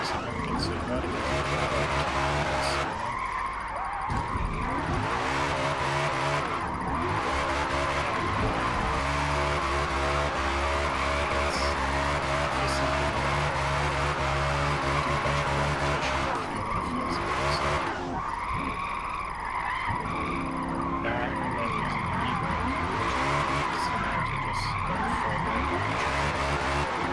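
Tires squeal steadily as a car drifts in Forza Motorsport, the engine droning and revving continuously underneath, with someone talking over most of it.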